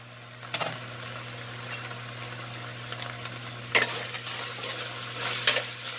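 Ground pork and string beans sauté in a covered pan with a low, even sizzle, a steady hum beneath it, and a few scattered clinks and scrapes, close by with no one speaking.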